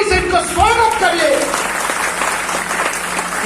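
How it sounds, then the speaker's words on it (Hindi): A large audience at a public speech event bursts into loud, steady clapping that fills the whole moment, with a voice briefly audible over it at the start. "एक बार मैं चाहता हूं इस संगठन के लिए जोरदार ताली से इनका स्वागत करिए"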